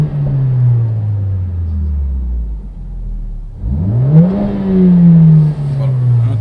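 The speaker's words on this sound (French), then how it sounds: "on va mettre un petit coup de gaz à froid pour voir comment ça fait dans la voiture" Mercedes AMG A45 engine revved from cold, heard from inside the car: a steady idle drone sinking lower, then a quick throttle blip rising and holding in a loud, close rev.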